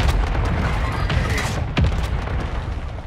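Heavy artillery strike in Call of Duty MW2, a deep rumbling boom with a sharp impact near the middle, loud and dense with no talk.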